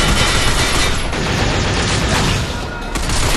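Heavy sustained gunfire from a Binary Domain firefight on Xbox 360, loud and dense, with overlapping rifle bursts filling the whole stretch without pause.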